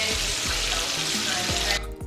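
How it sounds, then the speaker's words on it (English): Bacon fries in a frying pan with a close, loud, crackling sizzle, broken by a few low knocks, before the sound drops away sharply near the end. "so I went ahead and fried it up"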